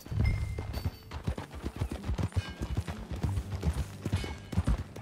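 Horse hooves clopping in Red Dead Redemption 2 as riders set off together, a brisk, uneven rhythm of close, heavy hoofbeats that runs throughout.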